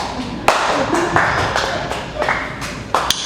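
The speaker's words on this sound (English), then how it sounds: "You should be applauding for yourself." A small audience at a talk claps in scattered, uneven bursts, fairly close, with sharp individual hand slaps and a few louder claps toward the end.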